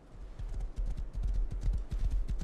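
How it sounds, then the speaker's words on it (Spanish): Horse hooves clip-clop in the survival video game Rust, a quick, even rhythm of soft thuds over a low rumbling background, with no talking. "yo voy a pasar con el caballo"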